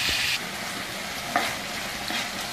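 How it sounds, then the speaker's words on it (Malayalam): Chicken fries in oil over a medium flame for a wheat spaghetti dish, producing a steady, close sizzling hiss with a brief louder spatter near the start and a small pop midway. "ഈ ചിക്കൻ മീഡിയം ഫ്ലെയിം ഇട്ട് ഈ ഓയിലൊന്ന് ജസ്റ്റ് ഒന്ന് ക്യാരഫൈ ചെയ്ത് എടുക്കണം"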